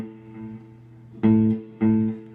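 Electric guitar through a delay pedal: a sustained note followed by two loud, evenly spaced echo repeats about half a second apart, each strong and clean before fading.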